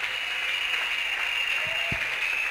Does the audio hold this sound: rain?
no